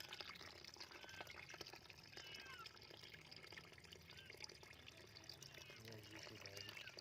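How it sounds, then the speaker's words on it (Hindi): Water poured onto dry bran and oil cake feed for young aseel chicks, a steady splashing wash running through the clip alongside busy background noise and faint chirps. "और पानी डाल दे इसमें थोड़ा सा।"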